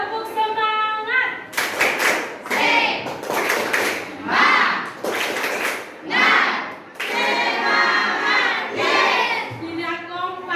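A class of Indonesian schoolchildren performs the tepuk semangat clapping chant, several bursts of rhythmic group claps interleaved with loud shouted chanting voices, close and lively, with a teacher's voice at the start.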